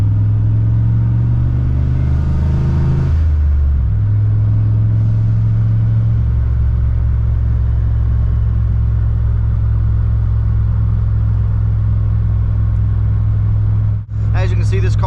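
A turbo Fox Body Mustang on street tires, with a touchy throttle, pulls away from a dead stop. The engine revs up sharply, then settles into a loud, steady low exhaust drone that runs close and continuous, with a brief dropout near the end.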